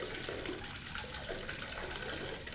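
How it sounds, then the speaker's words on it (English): Running water rinsing the paint-carrying parts of a Bosch PFS 5000 E spray gun, a continuous splashing, tap-like flow with fluttering gurgles, close and fairly quiet, no voices. "you simply rinse the paint-carrying parts thoroughly with water or thinner"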